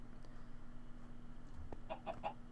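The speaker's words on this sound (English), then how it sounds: "The chickens do make noise." Minecraft chickens let out three short, faint clucks in quick succession near the end, over a steady low background hum with no talking.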